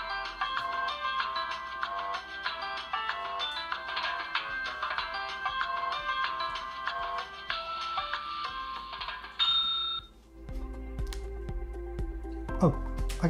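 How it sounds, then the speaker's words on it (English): Electronic timer from the Alice in Wordland board game running with a steady stream of bright, busy tones for about ten seconds, then cutting off into quieter clicks and handling noises nearby. "You have to reset the timer, and the timer sounds like this."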